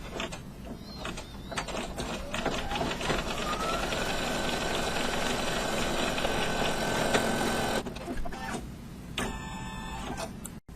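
An in-the-hoop embroidery machine stitches down a corner bookmark held with repositionable adhesive, giving a steady, fast mechanical whirr and rhythmic needle tapping that runs for several seconds before breaking into short stop-start bursts.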